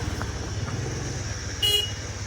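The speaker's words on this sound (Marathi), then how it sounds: "चला गाडी पार्क करा" A car pulling in to park at home gives a low, steady engine rumble throughout, with a brief horn-like beep sounding near the end.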